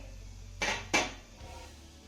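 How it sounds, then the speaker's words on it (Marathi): A metal lid lifts off a cooking pot of steamed rice flour dough with two quick close scraping clanks, followed by a faint hiss and quiet room tone. "साधारण दोन ते तीन मिनिटानंतर यावरचं मी झाकण काढतीये"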